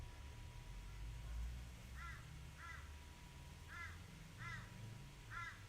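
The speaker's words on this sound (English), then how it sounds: "He's a very noisy crow." A single crow gives five harsh caws in two pairs and a final call, fairly distant and faint over a steady low outdoor rumble, with no talking.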